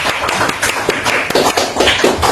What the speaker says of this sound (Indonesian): Yuk kita aplaus buat Cika.